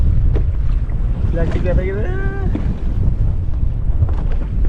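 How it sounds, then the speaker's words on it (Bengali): Strong wind buffets a boat out on open water, loud continuous rumbling gusts with splashing, while a person speaks briefly in the middle. "প্রচন্ড হাওয়া"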